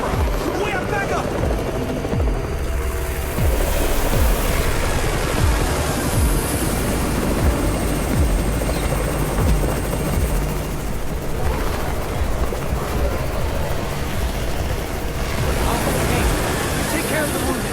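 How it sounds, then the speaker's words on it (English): A rescue helicopter arrives amid a zombie attack, its rotor roar loud and constant, thick with low rumble, while shouting voices cut in over it. "It's the Raven's chopper!"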